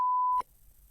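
A single steady censor bleep, loud and clean, covers a spoken name for about four tenths of a second in French casual speech, then cuts off abruptly into faint room hiss.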